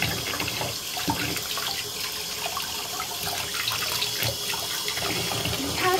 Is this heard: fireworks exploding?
no